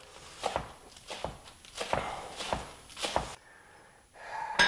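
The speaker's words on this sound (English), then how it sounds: "I'm just going to cut these at an angle right here." Knife slicing green onion tops at an angle, a steady series of about eight crisp, close chopping strokes at an even rhythm.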